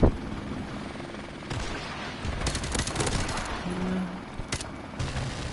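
A helicopter support chopper in Call of Duty MWR drones steadily while scattered bursts of gunfire crack around it at mid distance.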